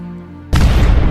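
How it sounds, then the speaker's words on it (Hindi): A loud cartoon explosion breaks in abruptly after a held tone: one sudden, heavy boom that stays as a dense, roaring blast until the end. "तभी वहाँ पर एक जोर का धमाका होता है"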